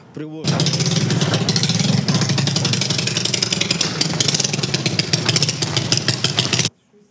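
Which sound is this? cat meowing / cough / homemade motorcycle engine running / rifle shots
homemade motorcycle engine running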